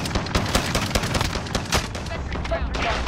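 Rapid bursts of gunfire in Call of Duty: Modern Warfare crackle almost nonstop, dense and loud, with short gaps between volleys and a few faint voices underneath.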